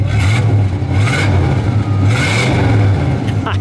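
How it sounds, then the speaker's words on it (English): A 1955 Studebaker Commander Regal V8 with single exhaust revs loudly up close, its deep throaty rumble rising and falling twice with a steady low idle underneath. "Go ahead, give it a rev."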